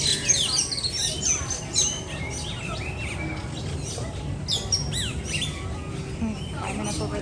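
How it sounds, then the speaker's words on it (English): Birds chirp and tweet repeatedly at Disney's Animal Kingdom, with scattered high calls over a low background hum and faint murmuring voices. "More birds making nests."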